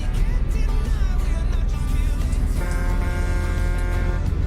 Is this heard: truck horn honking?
yes